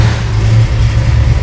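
The engine of a 1965 Ford Mustang 2+2 runs loud and close, a steady low rumble with slight pulsing, with no talking over it.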